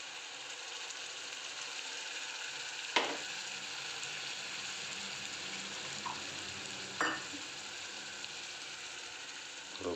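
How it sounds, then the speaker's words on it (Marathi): Puree added to a hot pan of palak paneer, sizzling and frying steadily with two sharp stirring scrapes and a few soft clinks, close and alone without speech. "आपली प्युरी आपण ॲड करून घेतोय."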